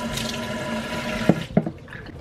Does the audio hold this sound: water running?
yes